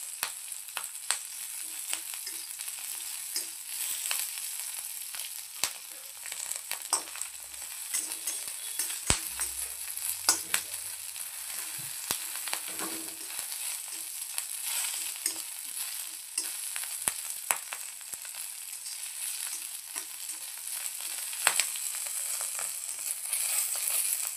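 Green chillies fry in a little oil, giving a steady hiss with frequent small crackles and pops and occasional stirring scrapes, without speech.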